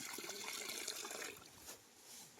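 Water trickling and flowing from a natural spring crossing a farmlot, a steady close babble that thins slightly toward the end.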